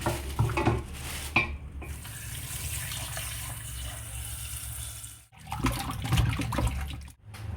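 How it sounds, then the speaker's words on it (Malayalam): Raw chicken being washed for homemade KFC-style fried chicken: tap water runs and splashes steadily at moderate level, with a few sharper sloshes and knocks near the start and end. "ഈ ചിക്കനെ ആദ്യം കഴുകിയെടുക്കാം"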